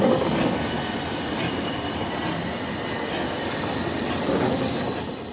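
A North British Railway 0-6-0 steam locomotive moves off hauling a special train in Scotland, giving a steady rolling rail rumble with faint wheel clatter and occasional squeal, continuous and fairly close, with no talking.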